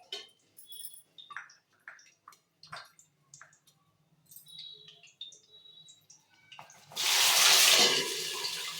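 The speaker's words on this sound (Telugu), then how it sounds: "ఆయిల్ కాగింది కదా, మనం ఇప్పుడు మిర్చి వేసేసుకున్నాము" Quiet scattered clicks and handling noises, then green chillies drop into hot oil and a loud, broad sizzle bursts up near the end and keeps hissing.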